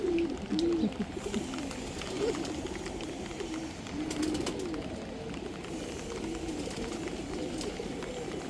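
Pigeons coo in soft repeated low calls close by, over a steady background hiss of rain.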